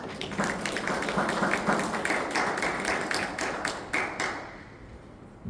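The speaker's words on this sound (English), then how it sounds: "I just give you a round of applause for stepping up to do that for us" A round of applause at a meeting, many hands clapping at moderate volume for several seconds before stopping near the end.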